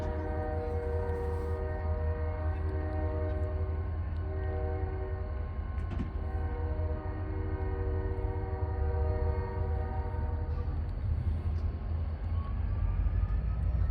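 DeQueen and Eastern GP40-2 diesel locomotives idle with a steady, loud engine drone while a horn sounds throughout, sustained and near.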